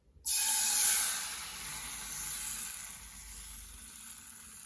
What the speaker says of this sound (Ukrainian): І тепер смажу.